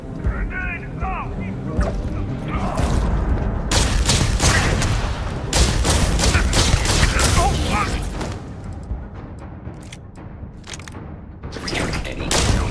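Grenade and gunfire explosions in Starfield combat, with booming blasts and dense mechanical clatter overlapping throughout, loud and close, while voices speak over the battle.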